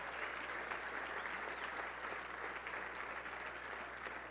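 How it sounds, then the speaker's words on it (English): Audience applause at an awards show ceremony, a steady, even wash of clapping sustained throughout at moderate distance, with no speech over it. "One big round of applause."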